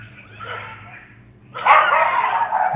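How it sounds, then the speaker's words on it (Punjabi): A pack of dogs attacking an elderly woman returning from a gurdwara, with agitated yelping, whimpering and barking that swells suddenly into a louder, close, frantic commotion. "ਸਾਰੇ ਕੁੱਤੇ ਲਗਾਤਾਰ ਹੀ ਮਾਤਾ ਨੂੰ ਪੈ ਗਏ ਨੋਚ-ਨੋਚ ਕੇ ਖਾ ਰਹੇ ਹਨ"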